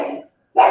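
A dog named Mogwai gives two loud, close barks with a brief silence between them.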